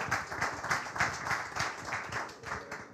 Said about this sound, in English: I'll leave it there because I got an applause.